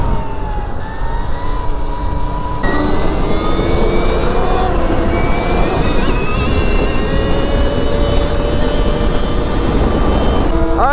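A Stark Varg electric dirt bike at full power, around 40 horsepower, exploring an abandoned waterpark: a loud, continuous high-pitched electric motor whine that rises and shifts in pitch as it speeds along, with no talking.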